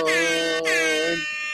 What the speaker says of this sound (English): I have air horn.